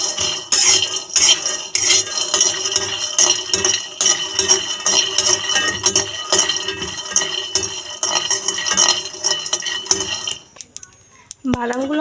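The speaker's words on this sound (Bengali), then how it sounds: "এগুলো শুকনো খোলায় ভেজে নেব যাতে এর খোসাগুলো তুলে ফেলা যায়" Peanuts are dry-roasted in a wok without oil and stirred briskly. A spatula scrapes and clinks against the metal pan in rapid repeated strokes for most of the time, then the sound thins near the end.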